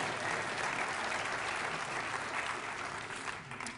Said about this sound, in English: Let's have a round of applause for the pig.